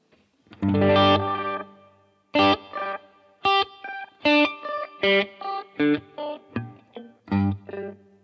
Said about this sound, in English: let's check out what happens when we add a 12 semitone pitch delay to our sound.